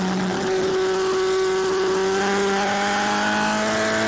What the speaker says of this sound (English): Now towards turn 8, the short straight, and down all 5 gears for turn 9.